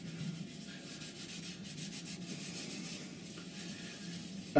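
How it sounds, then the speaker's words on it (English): Liming wax is rubbed by hand into wood grain on a turned piece with the lathe stopped, making a soft, continuous close scrubbing sound. "Wipe it in by hand, making sure you drive it into the grain"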